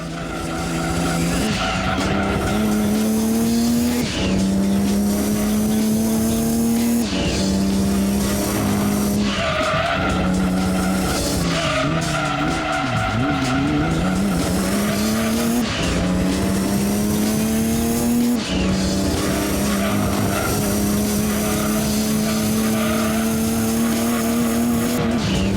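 Race cars in Gran Turismo 2 during a GT300 championship race, a continuous loud engine drone with shifting pitch and repeated tire squeals and skids throughout, no talking.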